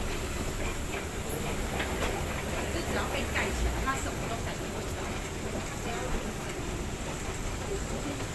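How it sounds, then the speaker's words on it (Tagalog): Continuous rumble and hiss of a metro train in motion in Taiwan, heard from inside, with faint rhythmic clatter and a murmur of voices. "Sakay na ako ng MRT."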